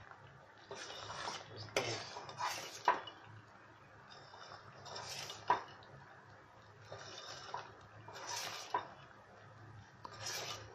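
Coconut-laced Mysore pak mixture is stirred in a pan, with quiet, repeated scraping and rubbing strokes coming in irregular bursts. A brief spoken phrase occurs in between.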